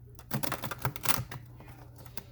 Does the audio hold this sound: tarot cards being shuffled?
yes